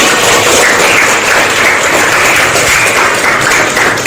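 Classroom applause from students thanked by their teacher, a loud, dense, even wash of clapping that runs steadily throughout without any talk.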